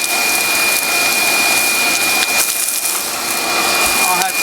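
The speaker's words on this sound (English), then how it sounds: "I'm just pecking this mortar here" Loose, crumbly mortar is pecked and chipped from a basement wall: continuous gritty scraping and crumbling close up, steady and fairly loud, with a faint high whine in the background.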